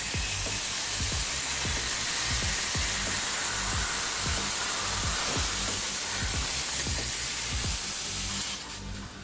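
A hot knife slices through a plastic Coca-Cola bottle with a loud, continuous hissing sizzle and a steady train of small crackling ticks, fading slightly at the end.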